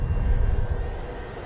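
Engine drone of an FMS Kawasaki Ki-61 "Tony" 995mm RC model warbird rising as power comes in for a high-speed pass down the runway, a steady loud hum that eases slightly toward the end.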